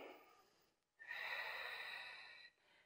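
A slow, deep breath drawn in through the nose and then let out through the mouth, a long airy rush close to the mic during relaxation practice, with no talking.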